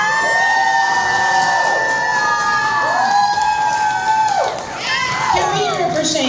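A crowd at a Red Hill water contamination survivors gathering cheers, whoops and shouts loudly and steadily, a dense wall of excited voices.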